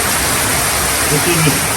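Steady monsoon rainfall hisses loudly and evenly over a flooded yard, with a voice briefly murmuring underneath near the end.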